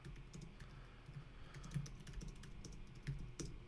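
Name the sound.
typing on a computer keyboard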